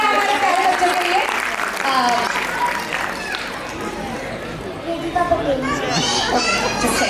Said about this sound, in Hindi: तो जोरदार तालियां हमारे प्यारे बच्चों के लिए।